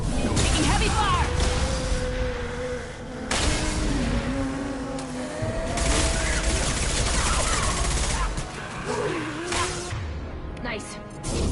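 Heavy gunfire crackles in a Mass Effect 2 battle, dense bursts of shots and impacts filling the scene continuously while voices talk and shout over the combat noise.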